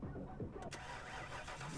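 A car engine starting up in the video game Need For Speed 2015, a quick cranking catch followed by a steady mid-pitched idle rumble, faint overall with no talk.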